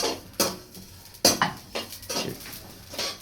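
Poppy seeds roasting in a pan for fenugreek laddoos, a utensil scraping and clanking against the metal in several sharp strokes while the dry seeds rustle and crackle faintly in between.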